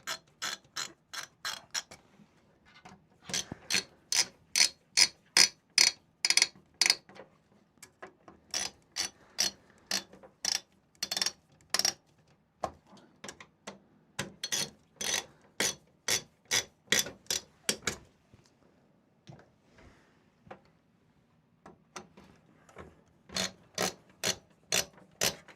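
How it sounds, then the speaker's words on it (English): Screws are driven into a desktop computer case with a ratcheting screwdriver, producing bursts of sharp, evenly spaced clicks separated by short pauses, close and crisp with no talking. "Get that nipped up with a couple of screws."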